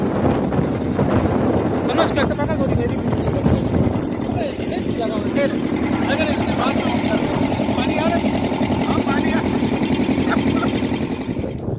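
A steady motorboat engine drones throughout on a night fishing trip at sea off Manora, loud and close, with wind buffeting the microphone and some voices underneath.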